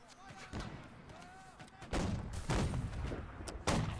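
Musket and cannon fire from the Napoleonic-era battle game Holdfast: Nations at War: several heavy booming shots land at irregular intervals, some near and loud, with faint voices between them.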